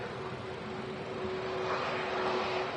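An Aer Lingus A330-300 airliner taxiing out at Manchester Airport, a steady broadband engine roar with a faint high whine, moderately distant and continuous, growing slightly louder toward the end.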